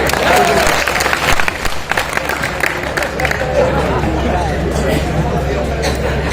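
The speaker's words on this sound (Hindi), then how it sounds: "आप भी तालियों से अभिनंदन करो।" Audience applause welcoming a guest at a Hindi poetry gathering, a dense crowd of clapping mixed with murmuring chatter, steady and loud throughout.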